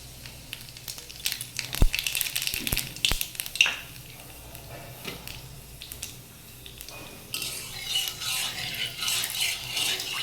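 Black cumin seeds crackle and sizzle in hot oil in a wok, starting with sharp pops and taps, then settling into a soft continuous hiss that swells brighter toward the end, close and without talk.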